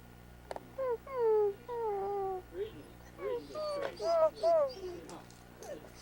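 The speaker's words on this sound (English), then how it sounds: "He's whining because he can't get him." A dog whines anxiously in a series of high, wavering cries, close and fairly loud, while trying to reach another animal outdoors at a Christmas tree cutting.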